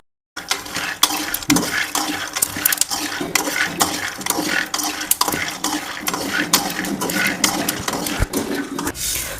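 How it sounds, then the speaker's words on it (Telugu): A kilogram of peanuts is stirred and roasted in a pan, a dense, continuous scraping and rattling of nuts against metal with frequent sharp clicks, close and loud with no talk. "1 కేజీ పల్లీలు తీసుకొని బాగా వేయించుకోవాలి."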